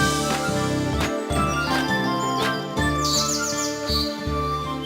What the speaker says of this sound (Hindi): टूनी चिड़िया जल्दी से उड़कर सागर की ओर रवाना हो